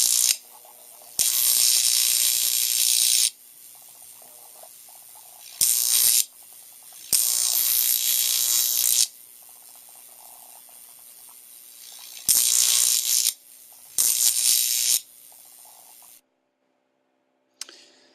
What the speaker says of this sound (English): Then it can be moved further away, creating a stream of plasma. You can control this plasma stream by moving the dowel.